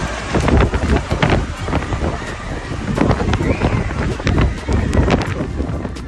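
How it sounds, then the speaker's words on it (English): Strong gusts roar across the microphone on Bald Head Island, a loud, continuous buffeting wind with repeated surges and sharp bursts over about six seconds, with no talking. "strong winds sent furniture flying like unwilling dancers."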